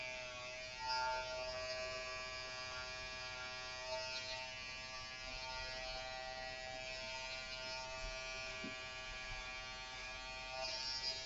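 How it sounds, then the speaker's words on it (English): A steady electric hair trimmer buzzes continuously at close range during a men's haircut, a bright droning hum with no pauses throughout. "Okay, so then I take my little peanut shaver."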